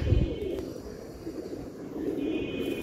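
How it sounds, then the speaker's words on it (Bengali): Pigeon cooing from a brown-necked pair of Giribaz pigeons, low soft coos repeating close by over a steady background hum. "তো এক জোড়া খয়রি গলা কবুতর দেখাচ্ছি, রানিং পেয়ার"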